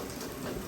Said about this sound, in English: And you can see the rain coming down.